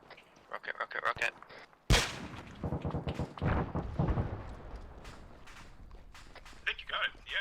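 A rocket fires in a military video game, followed by a sharp loud blast and a rumbling decay, with gunfire crackling before it and voices talking over the scene.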